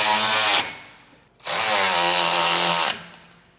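A tool tightening bolts while a California sidecar is assembled onto a Goldwing trike. It gives two long, loud, steady mechanical whirring bursts, close up, each cutting off abruptly with a short pause between them.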